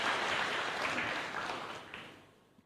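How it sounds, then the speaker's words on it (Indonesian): Church congregation applauding during a sermon, a broad dense clatter of many hands that fades out over about two and a half seconds before a sharp loud burst at the very end. "Berikan tepuk tangan yang meriah betul."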